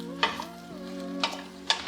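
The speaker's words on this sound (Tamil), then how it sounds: "பீர்க்கங்காவை சேர்த்துட்டு நல்லா ஒரு நிமிஷத்துக்கு நல்லா வதக்கி விடுங்க." Ridge gourd being sautéed with fried onions in a pan, a steady soft sizzle under a sustained tone, with three sharp stirring scrapes spaced about half a second to a second apart.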